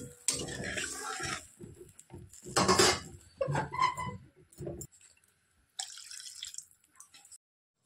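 Water is poured into a cauliflower fritter curry in a pot, heard as close splashing and trickling bursts with a few clinks, then a brief later pour before silence.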